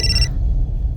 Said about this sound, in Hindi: मेघा का फोन